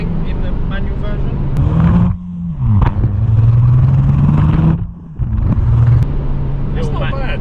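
A Nissan Juke Nismo RS with a 1.6 turbo engine revs loudly and close up, its pitch rising through gears with short breaks at the shifts, while someone talks over it.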